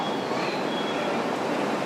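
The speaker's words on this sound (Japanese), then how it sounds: "まもなく7番線に当駅止まりの列車が参ります。" A JR East Senzan Line rapid train bound for Yamagata rolls into a station platform, a steady, fairly loud rush of wheels and rail noise with no break and no voices.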